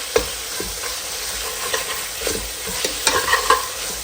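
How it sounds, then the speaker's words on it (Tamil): Tomato and mint sizzle and get stirred in a pan for chicken biryani, a close, continuous frying hiss with scraping spoon strokes and small clatters. "அது வரைக்கும் நம்ம வதக்கிக்கலாம்."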